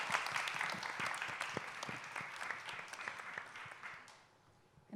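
An audience at a talk event applauds steadily for about four seconds, a dense patter of many hands that fades out toward the end.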